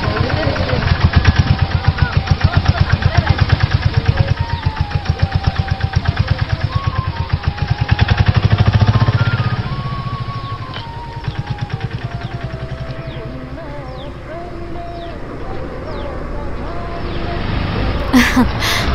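A vehicle engine putters in rapid, even pulses, then revs and changes tone as it drives off, the sound thinning and settling into a steadier hum.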